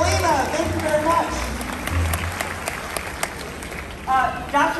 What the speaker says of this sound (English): Let's have a nice round of applause for Valina